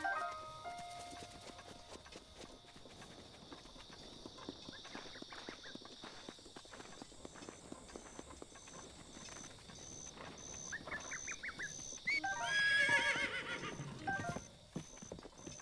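Horse in the Zelda Breath of the Wild video game, its hooves clip-clopping faintly and steadily under game music and ambience, with a brief louder whinny-like burst near the end.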